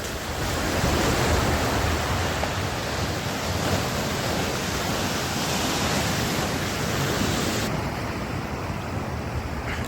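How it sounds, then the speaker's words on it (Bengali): Sea waves break continuously on Digha beach, a loud, steady roar of surf with wind rumble throughout and no talk. "আমি কিছু ঢেউয়ের সিন আপনাকে দেখাচ্ছি"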